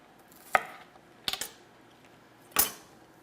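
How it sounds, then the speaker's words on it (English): A knife slices through green onions on a cutting board, three separate crisp chops, the middle one a quick double-tap, in a quiet kitchen with no talking. "So next on the agenda is to chop up our green onions."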